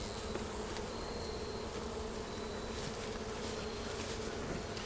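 Honeybees buzz in a steady, dense drone throughout a beehive inspection, faint but continuous, with a few individual bees whining past.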